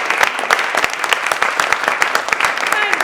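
Audience applause for a youth music group at an arts access panel event, dense clapping from a crowd with individual claps standing out close by, sustained at a lively, loud level.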